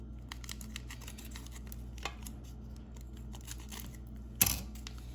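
A quiet kitchen with a few faint taps and rustles, then one sharp scissor snip near the end as a packet of yeast is cut open.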